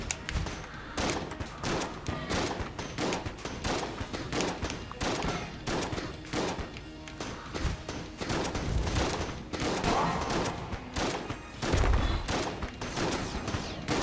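Relentless gunfire from the Enter the Gungeon video game, dense rapid shots crackling in close, loud bursts throughout, with little pause between volleys.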